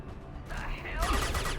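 Rapid gunfire breaks out in a Mass Effect 2 firefight, short bursts of shots that swell louder toward the end over a busy combat background.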